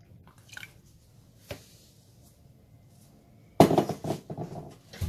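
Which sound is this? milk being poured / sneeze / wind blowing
milk being poured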